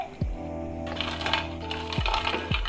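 Crispy fried sweet bread slices rattle and clatter with sharp crunchy clicks and a few thumps, alone and fairly close, with no talking.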